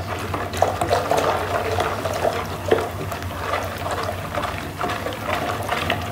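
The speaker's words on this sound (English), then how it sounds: "And stir. Stir it very well." A liquid homemade bleach mixture being stirred, giving a steady, close sloshing and trickling swirl that runs continuously with a few slightly louder splashes and no talking.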